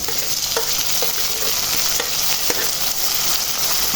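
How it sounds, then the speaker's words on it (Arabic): Tomatoes tossed into sautéed onions sizzle loudly in a pan, with a steady frying hiss broken by repeated scraping strokes of a stirring utensil, close and continuous. "ننزل بقى ايه بالطماطم"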